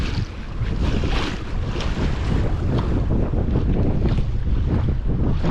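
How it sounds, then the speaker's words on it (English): Steady wind and rolling waves surround a NuCanoe Unlimited kayak on open water, a loud, continuous broadband rush with gusting microphone buffeting and no voices. "just kind of following the waves here"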